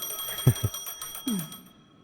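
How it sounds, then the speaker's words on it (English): A phone rings in Honkai Star Rail: a short electronic ringtone over steady high game ambience, with two quick bright pulses followed by a longer falling tone, fairly close and unaccompanied by talk. "A phone."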